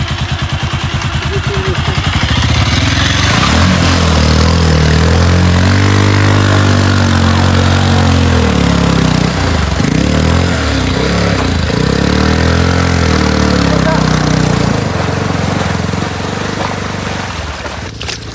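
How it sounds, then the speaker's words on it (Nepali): A motorcycle engine drones loudly and steadily as the bike fords through water, its sound staying close and continuous with shifting rumble and splashing noise, then easing off near the end. "एउटा बाइक त मजाले तर्यो"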